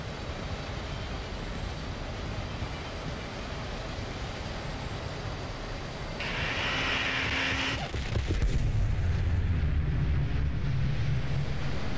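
In the War Thunder video game, rockets are fired downrange over a constant roar of engine and wind, followed by a louder, rumbling burst as they hit.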